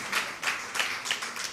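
Church congregation clapping hands in a steady, rhythmic beat of about five claps, moderately loud and slightly distant, with no voices.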